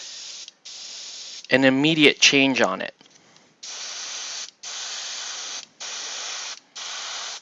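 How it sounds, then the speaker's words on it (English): Aerosol spray paint hisses onto a Star Wars clone trooper figure in repeated bursts, near and steady, with a brief stretch of talk interrupting the spraying partway through. "So when I spray this, you may not see"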